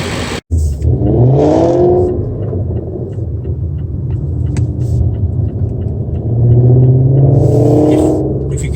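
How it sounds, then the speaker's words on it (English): A Ford Mustang engine revving on the road ahead, heard from inside a following car as two swelling, throaty rumbles with a steady road drone between them. "That was the sound of the Mustang in front of us."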